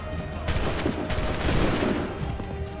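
Musket volleys crackle in Assassin's Creed III, dense overlapping gunfire bursts and booms rolling across the battlefield, loud and continuous over low rumble with faint shouted commands.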